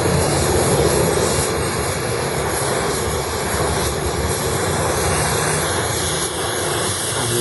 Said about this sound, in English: Got a gas axe.